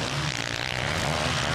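MX1 motocross motorcycles stuck in a rut at the 2007 Mantova Grand Prix rev their engines in a loud, unbroken droning whine.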